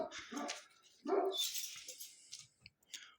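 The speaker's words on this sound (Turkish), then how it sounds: "şu havlayan köpekleri eline alacak yani" Dogs on a mountainside barking and yelping at close range in several sharp, uneven bursts, with a brief whimpering yip near the end and short quiet gaps between.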